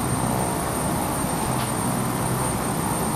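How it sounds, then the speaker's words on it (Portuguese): Propeller airplane reversing on the ground, a loud continuous roaring engine and propeller drone with steady broadband noise and a high whine, sustained without breaks. "Tá vendo que o avião tá dando ré?"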